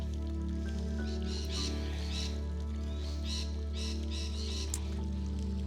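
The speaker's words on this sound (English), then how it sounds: "there are a lot of parrots in this park. They're quite loud." Parrots calling in an open park, a steady run of chirps and squawks spread across the clip at moderate distance over constant low background hum.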